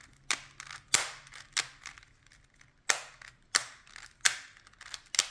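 Pieces of a 2x2x4 twisty puzzle snap sharply as they are turned and flipped. Eight or nine crisp clicks come in uneven bursts, close and loud, with quiet gaps between them and no talking.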